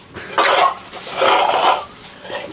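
A metal scraper rasps across an old gasket on a 2008-2011 Ford rear differential, three loud, close scraping strokes with brief pauses between them.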